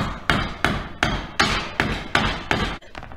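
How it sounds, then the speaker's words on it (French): Hammer blows drive a hammer-set anchor into a metal drywall rail, six or seven sharp, loud, evenly spaced strikes heard alone up close. "Je rentre ma cheville à frapper et je viens frapper dessus."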